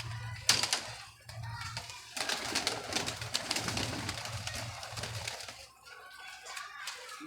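Pigeons in a loft or coop, cooing softly with low throaty calls, wing flaps and shuffling mixed in, close by and fairly continuous.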